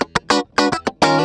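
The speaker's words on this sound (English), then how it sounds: "if you record your guitar directly into the audio interface, you get this real direct," Electric guitar recorded straight into an audio interface with a punchy direct tone: a run of short, sharply attacked notes and chords, close and fairly loud, with brief gaps between them and no talking.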